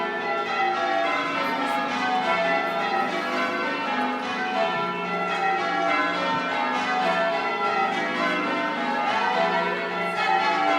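Church bells at St Peter Mancroft Church, Norwich, ring down the scale in a continuous, overlapping peal, many tones sounding one after another with a steady, even cadence and a rich ringing wash.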